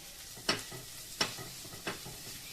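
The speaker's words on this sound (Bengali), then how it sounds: "এই কটা দিয়ে এবার ভালো করে মশলাটাকে মাখিয়ে নেব আমি" Spices being mixed in a pan for a home-style Bengali moong dal with prawns, heard as a few distinct scraping stirs of a spatula spaced about a second apart over a faint sizzle, close and fairly quiet.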